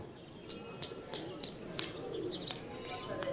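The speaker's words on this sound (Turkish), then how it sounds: "Zaten güvercin sesleri falan var." Soft pigeon coos and scattered chirps come through over a murmur of distant background noise, with a few faint clicks.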